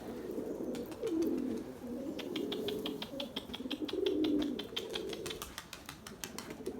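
Breeding pigeons coo repeatedly in a loft, several rolling calls close by, with light chirps and a rapid flutter of wings toward the end.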